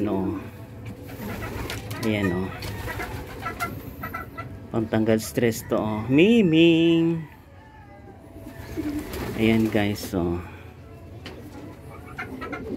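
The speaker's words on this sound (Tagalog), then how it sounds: "pinakain ko yung alagang manok at saka mga kalapati" Pet chickens cluck and pigeons coo close by during feeding, with a rising drawn-out call standing out, while someone talks intermittently over the birds.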